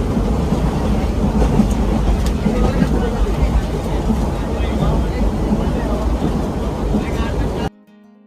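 Loud, continuous rumbling and rattling of a moving train, heard close up from on board on a journey to Chittagong railway station, ending abruptly.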